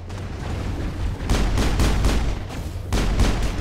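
Dense bursts of gunfire in the video game Mass Effect, with rapid repeated shots in clusters that swell and fade over a steady low rumble, loud and close with no voices.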